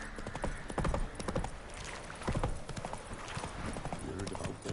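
Galloping hooves of Roach, the horse in The Witcher 3 video game, a fast clip-clop rhythm at moderate level with occasional louder thuds.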